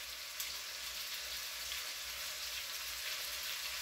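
Beef for stroganoff browning in a heavy pan gives off a steady, even sizzle like light rain, moderately loud and continuous, with no voices over it.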